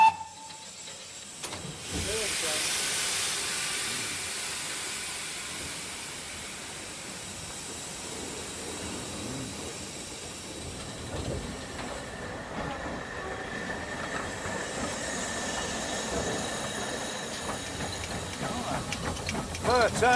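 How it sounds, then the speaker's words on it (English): Great Western Railway steam locomotive working at the Didcot Railway Centre, with a loud sustained hiss of steam and rolling rumble of carriages that rises and fades, wheel squeal and clanking passing nearby. "Here at the Didcot Railway Centre, you get the feeling of what steam locomotion was like on the Great Western Railway."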